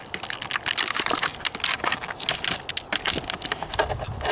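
Plastic ties being snipped off a Jurassic World Hammond Collection dinosaur figure package, a close, busy run of small crisp clicks, snips and crinkling plastic rustle with no talk.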